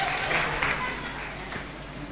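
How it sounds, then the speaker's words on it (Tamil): Church congregation clapping during a Sunday service in Madurai, a brief, moderately faint burst of applause that fades, with voices murmuring under it. "நம்ம ஆண்கள் அணி நல்லா கைத்தட்டுங்க"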